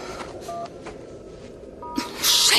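A telephone is dialed with touch-tone keys, and two short, clear beeps sound a little over a second apart. A rustling burst of noise follows near the end, with no talking.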